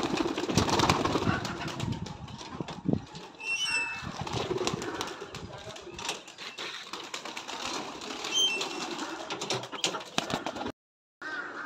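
Pigeons on a rooftop cooing softly with bursts of wing flapping and scattered clicks, fairly faint, with a brief dropout near the end.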